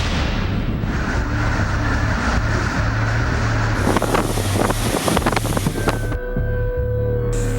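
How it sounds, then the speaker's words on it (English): Strong blizzard wind gusting at 45 to 50 miles an hour during a snow squall, producing a loud, continuous roar that buffets the microphone, swells midway and then thins out near the end. "we've got winds gusting upwards of 45 to 50 miles an hour"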